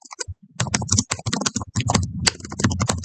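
Rapid computer keyboard typing, dense clicking keystrokes in quick bursts with brief pauses, close and clear, no talking.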